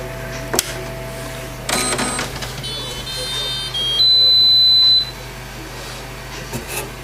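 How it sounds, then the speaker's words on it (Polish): A Seikosha SL 80IP dot-matrix printer powering on: a switch click, a brief mechanical clatter, then a steady high electronic beep lasting about two seconds, with faint room noise and sparse speech around it. "No I teraz włączamy naszą drukarkę."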